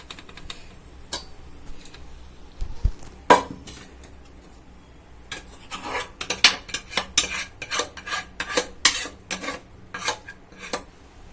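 Cooked mixed vegetables tipped from a pot into a larger container, heard as a run of close metallic clinks and scrapes of a spoon against the pan that grows busier in the second half, with no talking.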